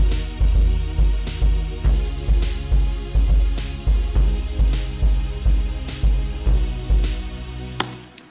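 Synth and bass play a tune in a steady pulsing pattern, with deep throbbing bass notes on each beat under a bright synth line, loud and continuous.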